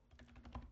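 Soft, quick keystrokes on a computer keyboard while text is entered in a command-line tool, a brief irregular run of light clicks, faint and close with no talk.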